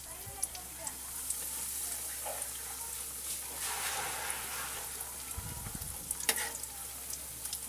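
Mango pie frying in hot oil until golden brown on both sides, a soft continuous sizzle with scattered crackles and pops and a brief low thump midway.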